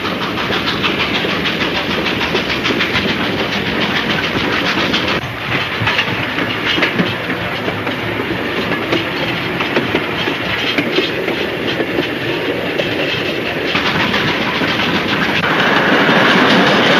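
A train rolls steadily along the rails with a continuous loud rumble and rhythmic clickety-clack, close and unbroken throughout.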